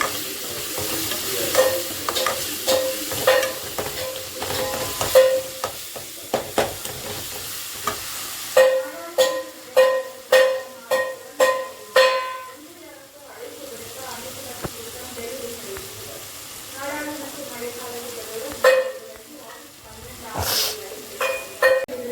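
Ingredients for a fish curry are sautéed in a pan with a continuous sizzle. Quick rhythmic runs of spatula scraping rise and fall close by, and a voice is heard briefly.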